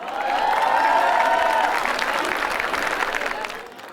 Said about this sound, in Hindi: उनके लिए तालियां बजा दो एक बार।